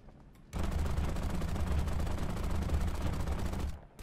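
Heavy gunfire in War Thunder aimed at a German Tiger tank, a dense rumbling burst of rapid shots lasting about three seconds, loud and close, cutting off abruptly.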